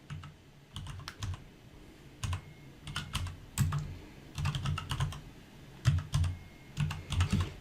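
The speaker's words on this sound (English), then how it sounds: "I want to type in Caribbean customized." Typing on a computer keyboard in bursts of quick key clicks separated by short pauses, close and fairly quiet with no voices.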